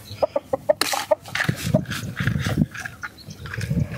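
Backyard chickens cluck in a quick run of short, sharp calls near the microphone, then give way to softer rustling, scratching and scattered murmurs in a wet, muddy yard.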